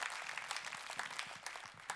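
A church congregation claps together during a sermon, a brief burst of soft, scattered applause heard from a distance with a roomy echo.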